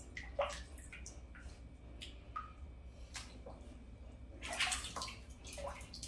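Water splashing and dripping in a bathtub as a Cane Corso is washed, with intermittent sloshes and squishy handling sounds over a low steady run of water, fairly faint and close.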